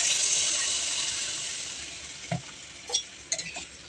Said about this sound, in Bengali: আমি জল দিয়ে দেবো পরিমাণ মতো।